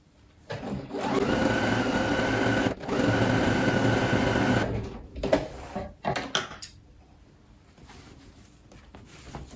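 A sewing machine zigzag-stitches elastic onto homemade leggings, running loud and steady for about four seconds with a brief pause, then a few short bursts before it falls quiet.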